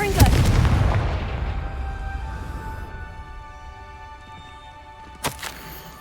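Confringo spell blast in Hogwarts Legacy, one loud booming explosion with a long fading rumble, followed by a brief sharp crack near the end.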